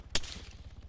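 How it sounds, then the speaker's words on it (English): Short bursts of Arma 3 gunfire crack out at the start and end of a brief moment, two sharp loud reports with a low rumbling tail between them. "Almost ran into your gunfire."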